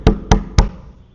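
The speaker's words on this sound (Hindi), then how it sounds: "उसका दरवाजा नॉक करते," Three sharp knocks on a door in an even rhythm, loud and close, then a short fading resonance.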